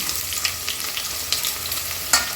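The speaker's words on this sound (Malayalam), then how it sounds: "സവാള വറുത്ത് കോരുന്നതിനായിട്ട് എണ്ണയിലിടുകയാണ്" Sliced onions fry in hot oil for chicken biryani, a steady broadband sizzle running throughout with a few sharp stirring scrapes, close and moderately loud, with no voices.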